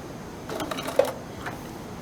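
A sewing machine running a straight stitch at a 2.4 stitch length, a short close burst of rapid mechanical clatter lasting about a second, then quiet hum.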